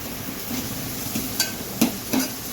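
Onion dropped into a hot pan with chillies for a prawn curry gives a steady close sizzle, broken by three short utensil scrapes and knocks, with no speech.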